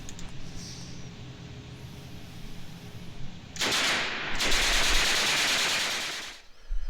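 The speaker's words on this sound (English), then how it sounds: "That's my fat ass shooting a Uzi" Uzi submachine gun fire played back from a recorded video, heard as a long, dense burst of rapid automatic shots after a few seconds of steady background hiss, loud and continuous until a sudden stop.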